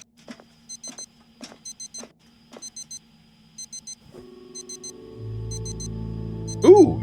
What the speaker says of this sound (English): We should be coming up on that alarm.